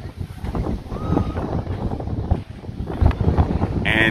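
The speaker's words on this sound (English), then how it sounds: "it seems like the wind has calmed down a little bit" Strong wind buffets the microphone at a crowded beach in Walvis Bay, Namibia, a constant rough roar with gusts and faint background voices.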